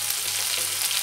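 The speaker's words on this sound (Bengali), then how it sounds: "আদাটা রসুনটা একটু ভাজা ভাজা হয়েছে, এবার এর মধ্যে দিলাম টমেটো কুচিটা" Chopped tomato hitting hot oil with ginger paste and garlic for a dhaba-style mutton curry, giving a steady, close, loud sizzle and hiss of frying with no talk.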